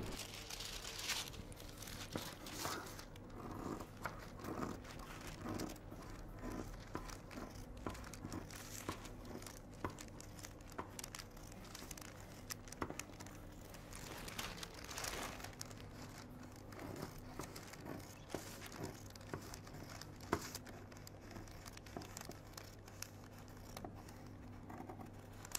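Scissors or shears cutting through coat fabric for a gusset, with faint, steady crisp snips and soft rustling of cloth at close range.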